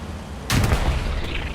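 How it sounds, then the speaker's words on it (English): A bullet ricochets off a Jumbo tank in Hell Let Loose, an abrupt loud impact with a metallic ring. A rumbling battle tail carries on behind it, and a second small hit follows. "Ricochet for the jumbo"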